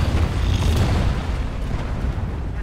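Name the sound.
C4 explosive detonating in a video game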